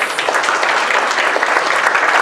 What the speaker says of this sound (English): Round of applause for you, thank you.